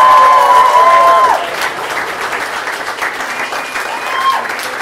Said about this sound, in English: Please give Michelle, Amy, and David another huge round of applause.